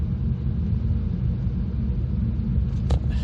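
A 2010 Peugeot 407 Coupé cruising on the A45 dual carriageway, heard from inside as a steady low engine and road rumble with constant tyre roar, with a brief higher-pitched swish near the end.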